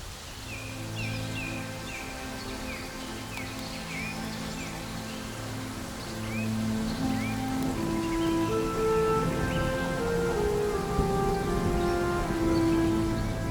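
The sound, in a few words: rain falling in forest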